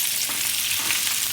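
Salted fish fries skin-side down in hot oil, giving a loud, dense, continuous sizzle close up with no talking.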